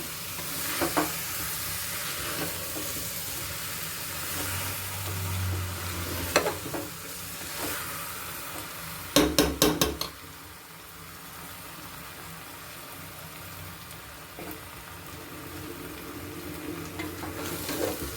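Ingredients for Mallika biryani are stirred and mixed in a pan, giving intermittent scraping and soft sizzling, with a quick run of sharp metallic knocks midway and quieter stirring afterward.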